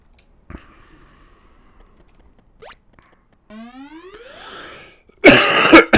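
A few scattered sounds, then a burst of harsh coughing near the end, close and loud after mostly quiet moments.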